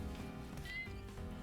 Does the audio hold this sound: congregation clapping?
no